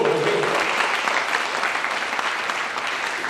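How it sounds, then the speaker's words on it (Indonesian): Sustained audience applause at an Indonesian leadership seminar, a dense, steady wash of many hands clapping that holds loud and even throughout with no break. "Tepuk tangan dulu dong, Bapak Ibu"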